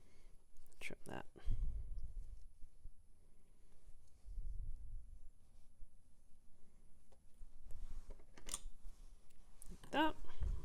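Scissors trimming a length of ribbon on a gift bag or box, a handful of crisp snips scattered among rustling, with whispery speech in between.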